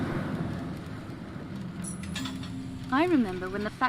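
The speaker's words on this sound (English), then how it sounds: "Train again. We must hurry." Train passing through a factory in The Last Show of Mr. Chardish, a steady rumbling roll with a rising metallic whistle-like tone toward the end, loud and continuous with no talk.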